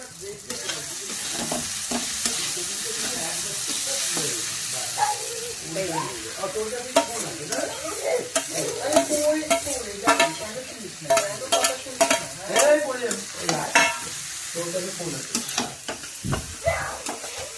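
Chow mein stir-fried in a pan: steady sizzling with repeated scraping and tossing strokes of a spatula, close and fairly loud, growing busier toward the end.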